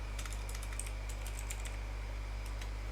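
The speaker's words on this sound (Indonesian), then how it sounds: "kita bisa mengetikkan exit" Keys on a computer keyboard are tapped out in a quick run of light clicks while a command is entered at a Windows command prompt, with steady hum underneath and no talk.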